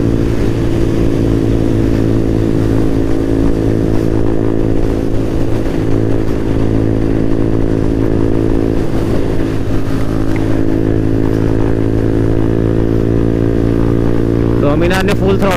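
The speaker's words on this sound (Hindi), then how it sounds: "मीना ने फुल थ्रॉटल दे दी है।" A Bajaj Dominar 400 motorcycle engine revs hard at full throttle on a group Sunday ride, a loud, steady harmonic drone that holds for the whole stretch, with speech picked up along with it.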